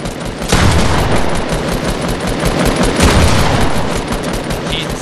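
Sustained automatic AK assault rifle fire in Fortnite, a loud, dense rattle of rapid shots running almost continuously, with a brief pause before the burst resumes.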